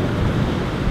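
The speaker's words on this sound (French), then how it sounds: "Il y a beaucoup de vent, donc je sais pas si vous m'entendez bien" Strong wind roars across a beach in Barcelona, a loud steady rumble of buffeting air against the microphone throughout the short moment.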